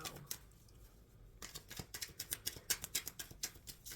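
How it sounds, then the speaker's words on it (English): Tarot cards being shuffled in a quiet room, starting with a few soft riffles, then a rapid run of crisp, close clicks and flutters. "Shuffling for August for Leo."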